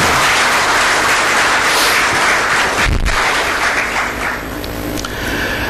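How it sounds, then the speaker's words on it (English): Sustained, loud audience applause fills a conference inauguration hall, a dense continuous wash of clapping with a brief dip near the middle before it carries on. "a big round of applause for Mr. Sridhar Balram"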